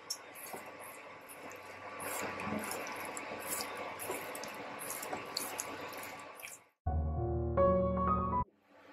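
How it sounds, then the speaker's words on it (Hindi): Water trickles steadily into besan batter in a kitchen, a continuous close pour with small splashes, then a brief harsh broadband burst near the end. "देखिए थोड़ा थोड़ा पानी ऐड करके"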